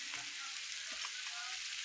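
Fish frying in a pan, a steady hiss of oil with faint crackles and no voices.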